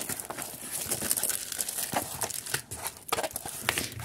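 A small teddy-bear diamond painting kit's plastic package being opened, with continuous close crinkling and tearing of wrapping and a few sharper rips, no talking.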